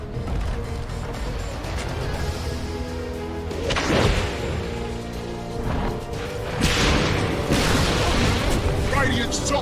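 A tower in a Dota 2 match crumbling under attack, heavy booming crashes and rumbling debris layered over dense game noise and a talking player, with two louder impacts midway.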